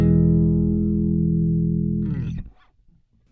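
A clean electric guitar chord runs through a Quad Cortex with a compressor and preamp, ringing and sustaining evenly for about two seconds before a quick muted scrape and silence.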